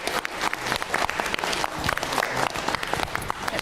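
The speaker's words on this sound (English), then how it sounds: "Can we give a round of applause to the candidates this evening?" Audience at a tribal general forum claps for the candidates, steady close applause with distinct individual hand claps throughout, fairly loud and without speech over it.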